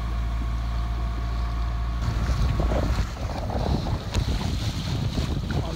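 A sailboat under engine with the mainsail raised, rolling in a following swell: a steady low motor drone beneath wind buffeting and the wash of water against the hull.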